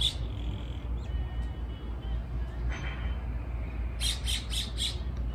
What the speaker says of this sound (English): All these beautiful birds everywhere.